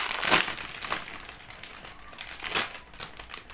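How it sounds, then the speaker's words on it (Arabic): A plastic bag is crinkled and rustled open with a few sharp bursts of crackling and softer rustling between, close by, no talk. "افتح الكيس بتاعي يلا"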